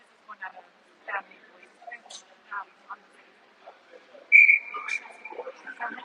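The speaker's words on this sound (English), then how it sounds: "Referee blows the whistle" A referee's whistle blows at an ice hockey game between Fort Collins and Team Wyoming, one sustained high shrill blast in a quiet rink after scattered short chirps and murmurs.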